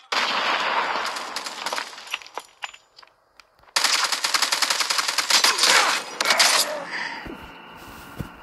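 Rapid automatic gunfire from a gun in Call of Duty Mobile, a loud burst followed by a brief pause and then a longer rattling stream of shots, tapering into scattered clicks.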